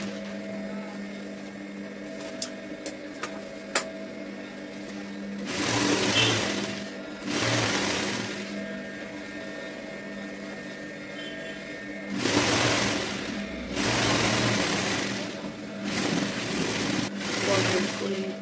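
An electric sewing machine stitches a blouse in several separate runs, each a loud, steady motor whir lasting a few seconds, with quiet pauses in between.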